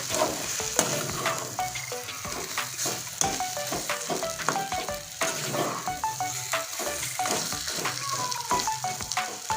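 Taro leaves cooked with a rohu fish head fry dry in a pan, giving a constant crackling sizzle broken by frequent sharp scraping and clinking from stirring.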